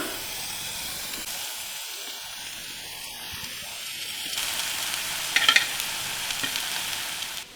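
Cooked rice is mixed in a pan for spinach rice, heard as a soft, steady hiss and faint stirring that grows a little louder toward the end, with a brief light clink and no talking.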